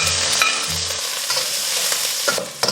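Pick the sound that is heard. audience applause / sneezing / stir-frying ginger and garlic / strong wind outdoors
stir-frying ginger and garlic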